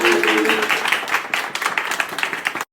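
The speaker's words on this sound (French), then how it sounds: "un bon accueil à Anissa et applaudissements" An audience on a French talk show welcomes a guest named Anissa with steady applause and cheers, loud and close, fading out before the end. A voice is briefly heard under the clapping.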